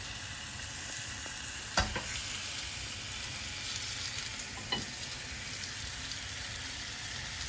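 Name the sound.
beef with achiote paste frying in a pan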